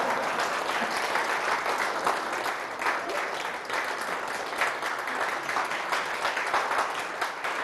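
A lecture audience claps steadily and densely throughout during a talk on communicating through laughter, a full hall applauding without pause.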